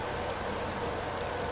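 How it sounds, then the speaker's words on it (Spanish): Steady rain falls in the video game The Last of Us, a dense, even hiss that fills the moment without any voices. "Esta lluvia no nos va a ayudar."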